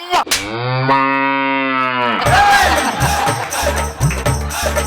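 A buffalo lets out one long, loud, drawn-out moo close by, then it gives way to a noisy, crowd-like background.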